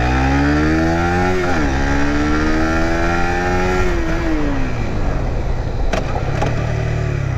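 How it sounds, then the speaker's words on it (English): A Suzuki GSX-R150 motorcycle engine revs up and then winds down under engine braking during a ride, a loud, close whine whose pitch climbs, shifts and falls over a rushing wind background. "Yeah, very nice engine brake."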